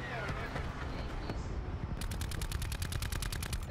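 Call of Duty Black Ops 4 gunfire crackles in rapid automatic bursts, with a dense run of sharp repeated shots in the second half over game ambience.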